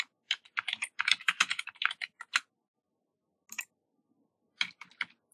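Someone types a full name on a computer keyboard while working in Autodesk Inventor 2021: a quick, close flurry of crisp keystrokes, a pause, then a few scattered taps.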